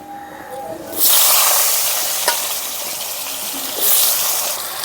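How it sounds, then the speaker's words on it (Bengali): Potatoes dropped into hot oil already used for frying fish burst into a loud, close sizzle that settles into a steady hiss and then surges again near the end. "এখন এই মাছ ভাজা তেলের মধ্যে আলুগুলো দিয়ে ভেজে নেব।"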